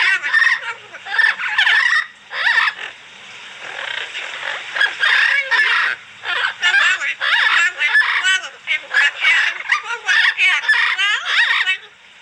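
Squawks, honks and crowing from a mix of fowl at an exotic animal ranch, loud and close, in busy overlapping bursts that keep up almost without a break.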